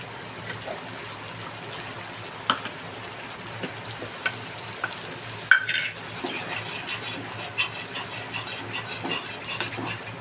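A ginger and cumin spice paste fries quietly in a pan for a papor curry, with a soft steady sizzle broken by occasional light taps and scrapes of stirring.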